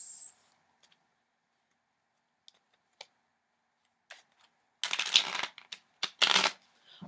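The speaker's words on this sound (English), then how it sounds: "So I'm just shuffling both of the decks." Two tarot decks are shuffled by hand, starting with a few isolated soft card clicks and taps, then building into loud, dense riffling bursts in the final seconds.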